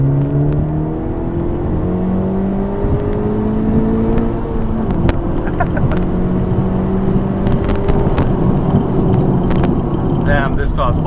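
A Honda Civic Type R FK8 engine pulls hard under acceleration from inside the car, its rising tones climbing and shifting through gears while people talk over the steady engine drone.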